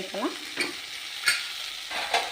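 Soaked lentils added to a hot pan for fenugreek dal, a few short scraping stirs with a soft sizzle underneath, close and fairly quiet.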